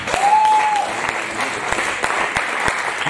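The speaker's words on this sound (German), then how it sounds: "Applaus" Steady applause from a crowd at a women's weightlifting championship fills the space, many hands clapping at once, with an announcer's voice briefly heard over it.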